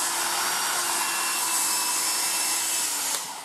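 A 1980s Black & Decker SW105 Stowaway 1000 travel hair dryer blows with a steady, close, loud whooshing whine, unbroken until a slight shift at the very end.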